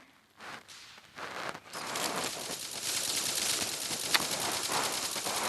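A pistol fires in rapid bursts in a CS:GO-like shooter, starting with a few separate shots and then turning into a dense, continuous stream of close, loud gunfire.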